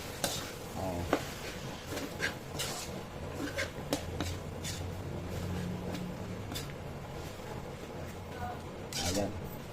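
Beef tripe fries with chili and green chili in a pan. A spoon scrapes and stirs with irregular clinks while a steady sizzle runs underneath, close up, as someone talks over the cooking.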